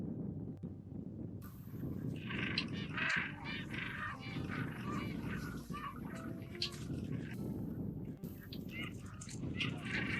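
Adelie penguins squawking and squabbling over nest stones in a crowded Antarctic colony, with loud honking calls from many birds overlapping over a constant busy din.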